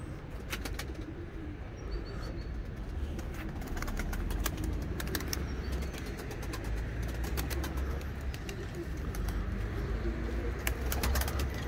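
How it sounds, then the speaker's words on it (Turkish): Pedigree pigeons from a long-bred line coo steadily, with soft, continuous calls close by over a constant low background hum. No one speaks. "Gezen kuşlar arkadaşlar."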